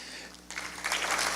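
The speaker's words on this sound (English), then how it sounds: "Yeah, that's definitely worthy of a round of applause." Audience applause at a climate leadership event starts softly, then swells into fuller clapping from many hands partway through, building louder toward the end.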